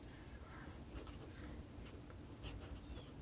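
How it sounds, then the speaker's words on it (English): A Pilot Penmanship fountain pen nib scratches across paper in faint, close, uneven strokes with short rasping bursts, alone and quiet. "I don't know if you guys can hear that nib, but it is very, very, very, very,"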